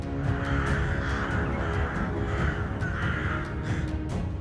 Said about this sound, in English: as crows are known for their noisy and aggressive behavior